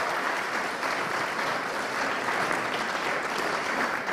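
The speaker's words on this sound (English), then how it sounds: "Big round of applause, please." A room full of people claps at a CLDSA AGM and awards evening, a dense, even wash of applause that holds steady without breaks, fairly near and full.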